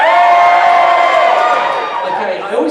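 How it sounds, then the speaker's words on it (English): Live comedy-show audience at Monkeyshine 2011 shouting and cheering on cue in a loud, sustained burst of mixed voices that tapers slightly toward the end. "they never applaud, they just go, hey!"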